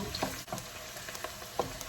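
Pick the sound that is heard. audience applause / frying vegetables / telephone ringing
frying vegetables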